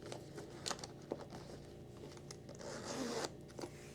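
A zipper on a Louis Vuitton Pochette bag pouch is drawn closed in close, quiet, quick rasping strokes, mixed with faint rustles of the leather and canvas.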